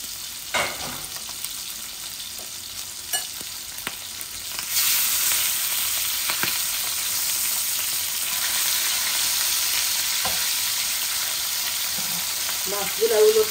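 Mrigal fish fries in oil in a pan and gets turned over. A few scrapes and knocks come first, then a loud, continuous sizzle swells and holds close up.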